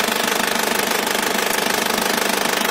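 Diesel engine of a 2000 Isuzu Panther idling with the oil filler cap removed, a loud, steady, fast knocking clatter heard up close with no talking.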